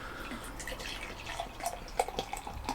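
Brew Ferm English Porter poured hard into a nucleated glass, a steady splashing trickle of liquid with fizzing and small drips building toward the end, close and fairly quiet.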